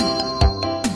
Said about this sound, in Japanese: 電話が九台プルルプルプルルプル九台